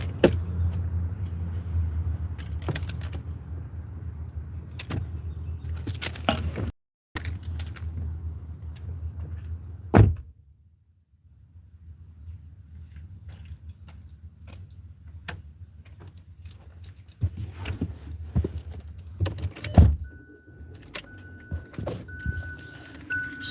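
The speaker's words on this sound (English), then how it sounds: "I gotta get in my car." Someone getting into a car: door thumps, jingling keys and small clicks, with a low steady rumble of a vehicle and a sharp slam partway through, close and fairly quiet.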